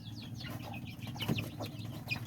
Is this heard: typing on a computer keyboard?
no